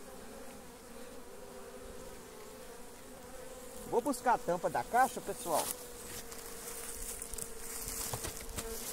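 Apis honey bees buzz near a cabiuna tree stump as they are captured into a hive box. A low hum swells into a dense, loud cluster of buzzing midway, then settles back while someone speaks.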